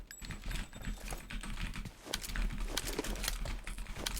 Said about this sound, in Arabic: الكيبورد عليه دبكه يا جدعان.